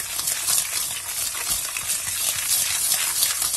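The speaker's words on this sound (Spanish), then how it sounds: "vamos a ir moviendo y cremando esto muy bien, que se vaya integrando" Butter and sugar being creamed for a Christmas plum cake batter, a continuous close scraping and swishing of the mixture being worked in a bowl, steady and without talk.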